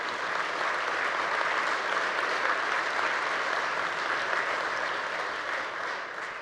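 Sustained applause from a large audience at a State of the State address before a joint session of the House and Senate, dense steady clapping that fades slightly toward the end.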